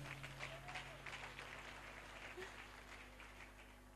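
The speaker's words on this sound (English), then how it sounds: "Clap hands for Jesus." Audience clapping hands in a church during a testimony service, a steady mass of applause with speech and music-like tones running underneath throughout.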